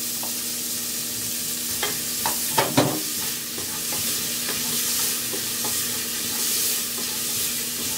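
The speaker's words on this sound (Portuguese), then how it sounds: "eu vou fritar 1 cebola picadinha" Chopped onion frying in the same pan used to sear pork ribs, a loud continuous sizzle with a few sharp scraping stirs and clinks near the start, no talking.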